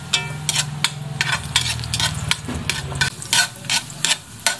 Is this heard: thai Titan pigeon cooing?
no